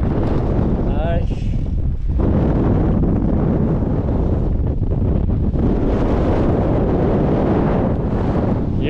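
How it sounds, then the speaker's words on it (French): Strong wind buffets the microphone during an electric-assisted mountain bike ride on trails near Uztarroze, a loud continuous roaring rumble filling the whole stretch, with a brief voice near the start. "Il y a du vent."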